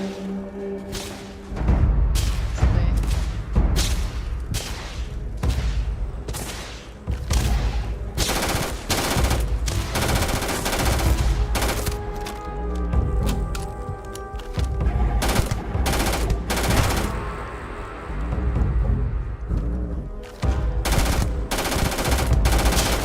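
Gunfire in an Xbox video game, repeated loud bursts of rapid automatic shots with short pauses between volleys, close and punchy with booming low end.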